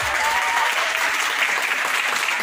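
A circus audience claps in steady, dense applause for a performer taking a bow; the clapping is loud and close, filling the whole moment without a break.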